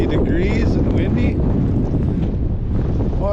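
Cold spring wind gusts outdoors under snow flurries, buffeting the microphone in a steady, loud roar with no break.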